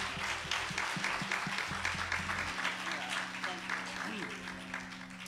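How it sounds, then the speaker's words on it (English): Church congregation applauds visitors during a Sunday worship service, a steady, full round of clapping across the room with a voice and low organ or keyboard tones underneath. "Let's give our visitors another round of applause."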